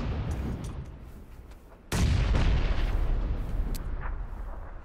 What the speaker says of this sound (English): I keep hearing nades by us